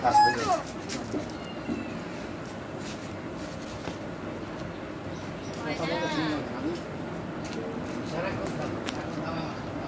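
A talking myna bird's calls and chattering chirps sound close by at intervals, with a person talking softly at times in between.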